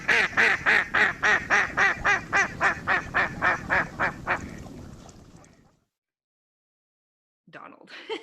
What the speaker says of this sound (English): It is the mallard.